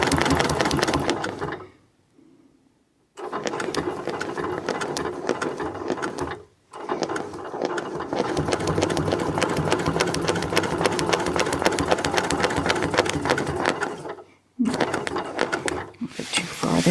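A sewing machine stitches a spineless feather quilting pattern on a shadow dizzy geese quilt panel, running in long steady bursts with brief pauses between passes, loud and close.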